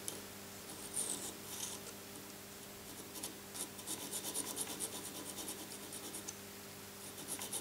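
The side corners of a watch hand get a final sharpening, producing faint, close, rhythmic rasping and rubbing strokes that repeat in short bursts in a quiet room.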